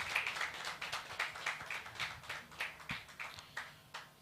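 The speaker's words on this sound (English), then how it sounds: "A resounding round of applause." Audience applause for a speaker at an energy sustainability conference, heard faint and somewhat distant as a thin, rhythmic run of individual claps at a steady pace.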